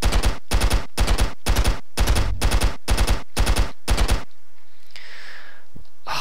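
Rapid, evenly spaced gunshots from a weapon in Stick Arena Dimensions, about ten sharp loud cracks in quick rhythm, then silence with a faint trailing noise.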